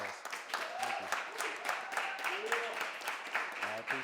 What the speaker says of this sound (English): give Daniel and Isaiah a round of applause